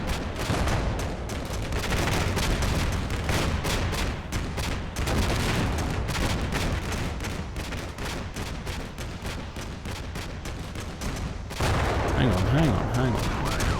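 Sustained gunfire and distant explosions in the wargame Combat Mission Black Sea form a dense, continuous battle din of crackling shots and rumbling booms, with a brief spoken remark and a louder swell near the end.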